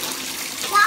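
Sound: shower water running

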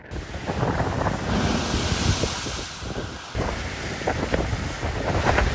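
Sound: strong storm wind

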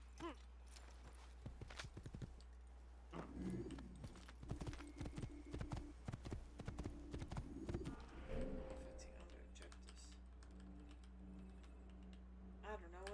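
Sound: horse hooves clip-clop in video game Assassin's Creed

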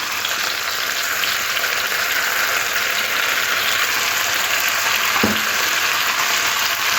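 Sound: stirring vegetables with poppy seed and mustard paste in a pan

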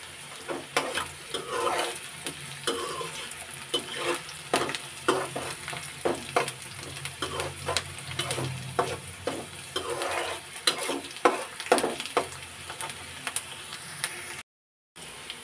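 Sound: onions frying and being stirred in a pan

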